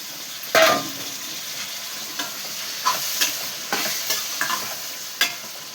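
Washed chicken pieces going into a hot pan for chicken curry, frying with a steady sizzle under repeated scraping stirs and clinks of a spatula, loud and close, with no talk.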